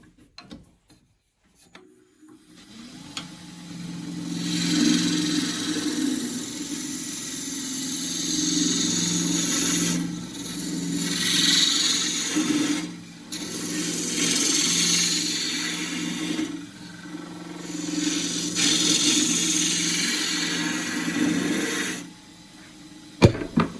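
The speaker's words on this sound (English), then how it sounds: "And now I'm going to cut inside this rim. 1/2 inch spindle gouge." A half-inch spindle gouge cuts inside the rim of very hard Tasmanian horizontal scrub wood spinning on a lathe, giving close, rasping scrapes in several long passes with short pauses between them, a low motor hum underneath.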